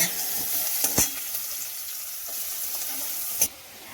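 Pointed gourd fries in a pan with chopped garlic and onion, giving a steady close sizzle. A few sharp clicks and stirs against the pan come through, and no one speaks.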